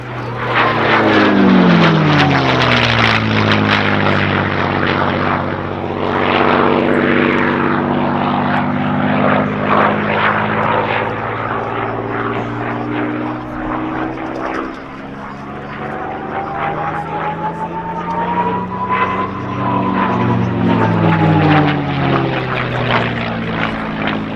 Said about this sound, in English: In from the left, the P-51D.